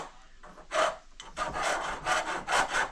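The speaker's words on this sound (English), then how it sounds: "file the line and make sure it's flat and get any burrs off the edges here" A hand file rasps across the end of a 3/16 steel brake line before double flaring, giving several short close scraping strokes in a quick uneven rhythm with no talking.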